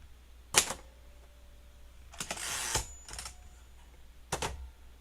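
A typewriter types in short separate bursts. A sharp strike is followed by a longer clattering run, and then a few more isolated keystrokes close by with pauses between them.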